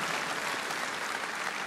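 Steady, dense applause from a church congregation giving praise to the Lord, a continuous wash of many hands clapping at moderate distance with no voices on top.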